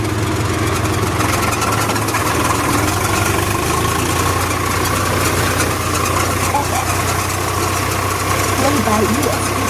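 A tractor engine runs steadily through a rice paddy harvest, a loud, constant low drone with a mechanical rattle, sustained and close.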